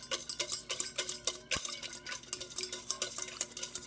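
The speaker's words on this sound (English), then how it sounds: "You're then going to take out your whisk and start whisking it all together." Metal whisk beating salad dressing ingredients in a bowl, a quick steady rhythm of light clinking strokes, close and fairly quiet, with no talk.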